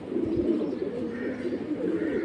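A pair of New Atal pigeons coo at a pigeon market, soft low throaty calls repeating under a busy, continuous market hum with no clear talk.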